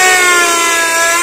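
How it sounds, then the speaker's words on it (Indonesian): A Maktec MT811 electric drill, repaired with a replacement gear, runs at full speed for a test, giving a loud, steady high-pitched whine with strong tonal harmonics and no pauses. "Mendingan langsung dites aja buat ngebor guys."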